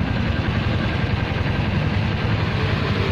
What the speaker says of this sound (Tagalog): ganyan yung andar ng motor natin kapag bago